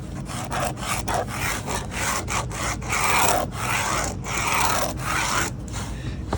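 Hand saw cutting through 1/2 inch MDF board to remove a triangular piece, with steady rhythmic back-and-forth strokes, close and fairly loud, uninterrupted for several seconds with no talking.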